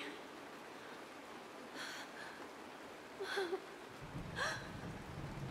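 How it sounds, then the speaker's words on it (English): Steady, faint rain hiss falls in a Honkai Star Rail cutscene, a soft continuous wash with a few brief brighter bursts, and the low rumble thickens toward the end. "The rain! It's raining!"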